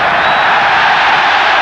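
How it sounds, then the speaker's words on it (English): Football stadium crowd at a UEFA Cup Final match between Casino Salzburg and Inter Milan, reacting to a tackle with a loud, sustained, dense roar that fills the whole moment without breaks. "Well, the crowd liked it"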